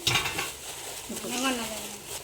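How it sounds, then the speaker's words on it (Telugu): Red chili pickle being stirred together with salt and old tamarind, a close, steady scraping and clinking of a spoon against a pot running throughout, with a brief tonal squeak partway through and no talking. "ఇప్పుడు ఒకసారి అంతా మిక్స్ చేసుకుని ఒక డబ్బాలోకి తీసేసుకోండి"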